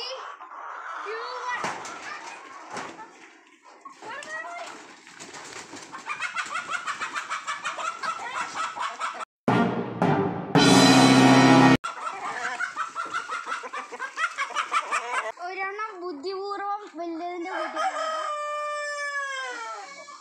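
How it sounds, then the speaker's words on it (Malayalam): Large Giriraja chickens cluck repeatedly and a rooster crows in a backyard coop, with close, uneven calls and a brief burst of rustling noise, while people talk over them much of the time. "വലിയ കോഴികളാണ്, അത് കിടിരാജ കോഴികളാണ്"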